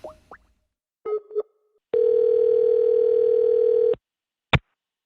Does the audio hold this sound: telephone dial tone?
yes